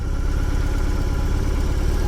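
A 2021 BMW R 18 motorcycle engine idling close by, a steady low rumble with even pulsing and no rise in revs, heard on its own.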